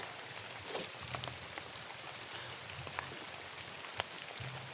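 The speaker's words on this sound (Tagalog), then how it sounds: "Ulan." Steady rain falls, a broadband hiss lasting throughout with faint scattered drops and a few brief louder knocks, with low rumbling underneath and no voices.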